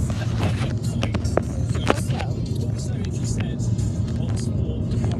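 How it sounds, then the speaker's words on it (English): A car rumbles steadily nearby with a broad road noise, while voices and scattered clicks sound over it. "Look at the car, another vacation."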